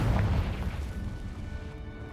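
Bombarda and Confringo spell blasts in the Hogwarts Legacy video game land as a heavy, rumbling boom that starts loud and slowly decays into a dense, crackling wash, with no talking.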